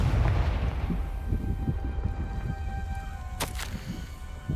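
A Confringo blast spell explodes in the Hogwarts Legacy video game, a dull rumbling boom over a low, steady backdrop, followed by a sharp crackling burst near the end.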